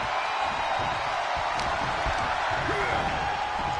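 A WWE wrestling arena crowd keeps up a dense, steady roar of cheering, loud and continuous throughout.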